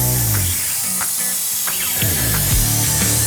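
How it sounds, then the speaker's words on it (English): A spray gun with an adjustable tip nozzle hisses continuously as it coats a vertical wall panel, a loud, steady airy spray with faint mechanical clicks underneath. "This easily adjustable little spray tip nozzle on the end helps you change the direction of the spray as well."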